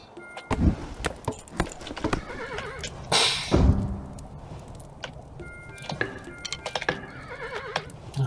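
A horse neighs loudly mid-clip in the game Kingdom New Lands, amid clip-clopping hooves and scattered game sound effects, with brief chimes and jingles around it.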